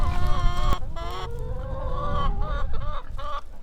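Chickens cluck and call loudly up close, several overlapping bird voices with drawn-out tonal squawks over a low windy rumble.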